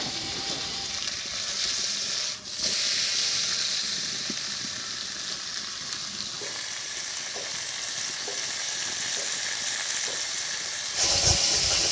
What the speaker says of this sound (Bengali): এবার কড়াইটা ঝাঁকিয়ে দিয়ে উল্টে দেবো।